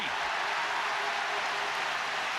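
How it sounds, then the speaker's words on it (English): A large stadium crowd roars and cheers after a score at the 2002 All-Ireland Hurling Final between Kilkenny and Clare, a dense, loud, sustained wash of noise with no individual voices standing out. "Huge cheer."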